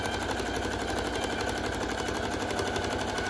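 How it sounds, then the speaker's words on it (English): A sewing machine runs continuously at a fast, steady stitching rhythm while joining two half-circle skirts into a full circle, close and alone with no talking. "Sewing together the 2 half circle skirts together so that I will have a whole circle to work with."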